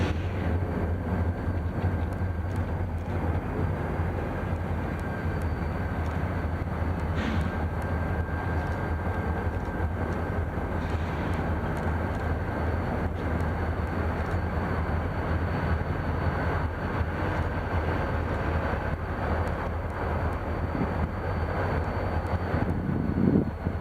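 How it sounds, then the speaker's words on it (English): A freight yard train led by three SD40 locomotives gives a steady low diesel rumble with faint wind noise. The sound holds fairly constant and moderately distant throughout. "another yard job came up to us, this being an SD40 trio with 1564 leading"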